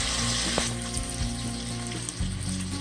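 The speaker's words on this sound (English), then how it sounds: "we're going to start off by frying our bacon" Bacon frying in a pan until crispy, a steady dense sizzle with loud crackling throughout and a few sharper pops, no voices.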